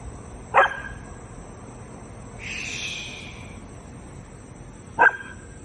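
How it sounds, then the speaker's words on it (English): Two sharp single dog barks, a few seconds apart, ring out against a quiet night backdrop on a fishing trip with steady insect chirring. "What you barking at, bud?"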